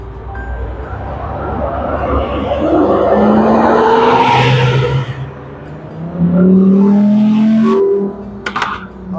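A green Ferrari sports car drives past on a city street, its engine loud and revving up close with a brief tire squeal, under steady traffic noise while people talk nearby.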